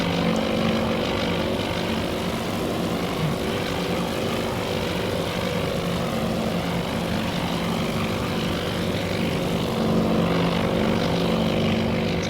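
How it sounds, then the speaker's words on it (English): A propeller plane climbs in the naval strategy game Task Force Admiral at the Battle of Midway, its engine drone steady and continuous throughout with no talk. "the plane is gaining altitude,"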